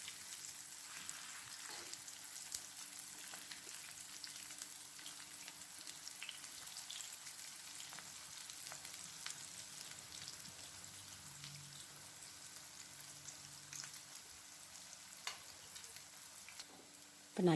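Potato and gram flour snack pieces fry in oil in a pan, a faint, steady crackling sizzle running on without voices.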